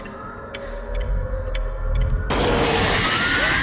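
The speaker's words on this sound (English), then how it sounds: "there's the sound of a clock ticking while she's in the void" Ticking clock from Stranger Things, a sparse series of sharp ticks over a low rumbling drone, then a sudden swell of dense, noisy roar takes over for the last second or so.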